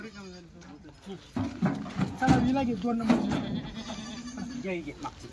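Dairy goats bleat repeatedly while being loaded into a vehicle after a sale, their wavering calls rising and falling close by under steady talk from the people handling them.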